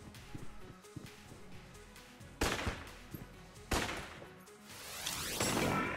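Winchester Rifle shots in the game Enter the Gungeon crack out as three loud, sharp blasts spaced over a few seconds, each ringing off, over busy game sound effects, no talk.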